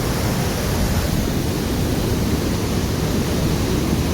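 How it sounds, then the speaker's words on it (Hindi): Heavy floodwater surges through a rubbish-choked drainage channel that feeds toward the Chenab river, a loud, dense, unbroken roar close by, with no voices. "काफ़ी ज़्यादा पानी आ रहा है यहाँ।"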